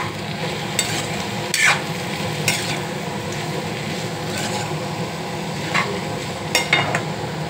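Ivy gourd pieces frying and sizzling in a pan on the stove, a steady crackling bed broken by several sharp scrapes of a spatula stirring the vegetable, with no talking.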